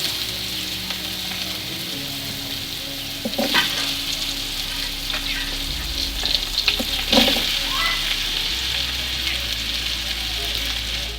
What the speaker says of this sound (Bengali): কাটা আনাজগুলো এই তেলেতেই ভেজে নেব।